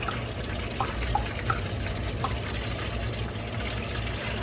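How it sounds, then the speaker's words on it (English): Water is poured into a coffee maker's reservoir in a home kitchen, making a steady trickling stream with a few small splashes over a constant low background hum. No voices are heard. "So I'll put some water in here."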